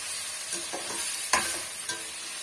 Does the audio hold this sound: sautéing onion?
yes